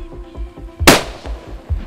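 A single loud rifle shot rings out close by during a hunt on an African safari, a sharp broadband crack with a brief tail, set against low rumbling background noise.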